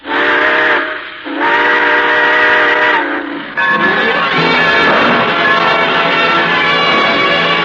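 A loud steam train whistle sounds in long blasts, then the chuffing rumble of the train pulling away, with no talking, in a 1952 radio broadcast.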